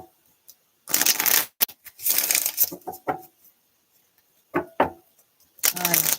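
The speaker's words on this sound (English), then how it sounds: "Shuffling these cards." Tarot cards riffled and shuffled in several bursts, close and crisp, with short quiet gaps between the flurries and a few sharp taps.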